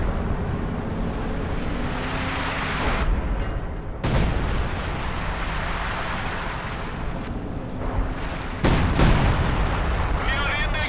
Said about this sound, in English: Good, artillery firing in.